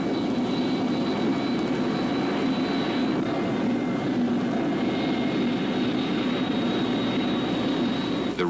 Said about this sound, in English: The remote pilot flared the aircraft normally just prior to touchdown.